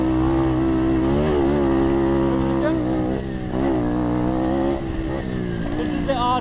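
A moped engine in a five-hour enduro race, revving hard through the gears, its pitch climbing and dropping as it is held flat out, loud and close, with a voice talking over it.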